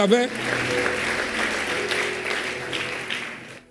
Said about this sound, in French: Merci pour ceux-là qui acclament.